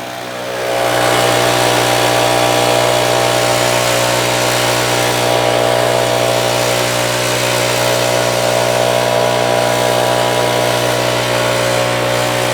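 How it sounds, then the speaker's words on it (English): A gas leaf blower clearing sticks and leaves during fall yard cleanup starts up and runs loud and close at a steady drone with a strong engine hum, no talk. "let me demonstrate with the blower real quick"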